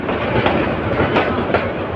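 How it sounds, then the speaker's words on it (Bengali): A passenger train rolls into Bhairab Bazar Junction station with rhythmic clickety-clack of wheels over rail joints, loud and close, a steady rumble underneath. "ট্রেনটি এখন ভৈরব বাজার জংশনে প্রবেশ করেছে"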